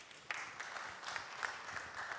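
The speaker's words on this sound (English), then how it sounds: "The applause even before the response." Audience applause at a trade and investment forum during the Afreximbank annual meetings, a steady wash of clapping from a crowd that swells in small bursts and holds for the whole stretch, with no talk over it.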